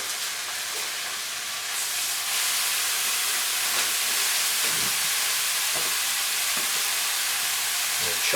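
Minced meat dropped into a hot pan beside softening onions, frying with a steady loud sizzle and hiss throughout, with occasional scraping and stirring.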